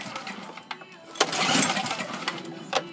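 A 2004 Craftsman snowblower engine cranks and catches, sputtering into a loud, rough running roar after a few short pulls, recorded up close.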